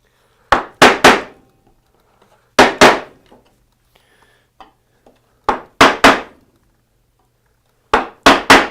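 A chisel struck with a mallet chops out a dado in wood: four separate bursts, each of two or three sharp, loud close knocks, with quiet pauses between.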